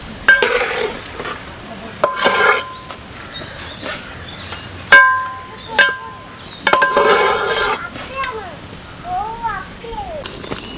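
Chicken varattiyathu being stirred in a pan over the heat, with repeated scraping stir strokes and a soft sizzle, close by. Occasional clinks and children's voices sound in the background.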